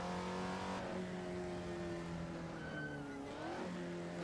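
Race car engines on the Nordschleife in Assetto Corsa, including an Audi Quattro and a Porsche: a steady, droning high-revving engine note that shifts pitch during gear changes, continuous and close.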